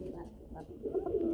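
Rajgolla pigeons, a breed of domestic pigeon, coo softly in a close series of low rounded calls, with faint background murmur.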